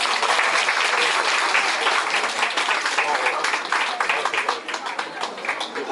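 Sustained audience applause at a Busan International Film Festival gathering, dense steady clapping from a large crowd lasting throughout and tapering slightly at the end.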